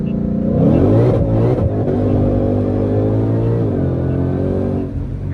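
Ford Mustang GT500 accelerating hard with traction control off, its engine roaring loud and close with rising and shifting revs across several seconds and a rumbling exhaust, no talk over it.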